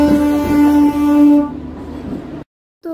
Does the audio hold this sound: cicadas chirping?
no